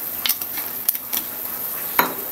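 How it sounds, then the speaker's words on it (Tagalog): Seasoned broth for rice porridge is stirred in a pot, giving soft sizzling texture with a few light scrapes and clinks against the pot. "Haluin natin."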